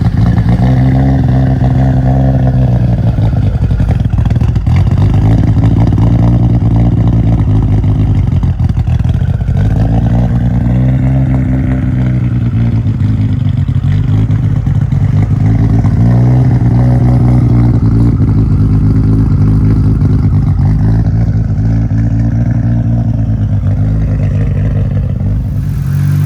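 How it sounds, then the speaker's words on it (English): A Nissan Skyline GT-R R34 V-spec's turbocharged engine revs loudly and repeatedly, its pitch swelling and falling in waves over a steady close rumble, with no voices. "When I revved it, you could hear the turbos fully"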